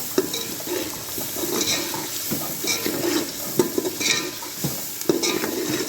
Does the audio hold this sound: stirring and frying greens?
yes